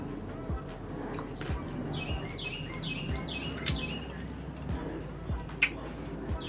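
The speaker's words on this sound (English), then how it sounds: "Birds, chill." Outdoor birds chirping, with a short run of repeated high tweets early on and scattered single chirps later, faint against a quiet background dotted with small ticks and taps.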